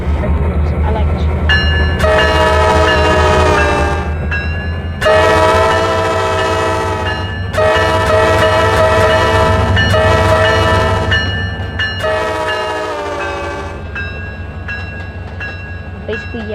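Locomotive horn in the train simulator game Trainz, four long loud multi-tone blasts in a row, evenly spaced, over steady engine rumble, with no talk.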